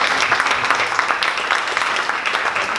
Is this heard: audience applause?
yes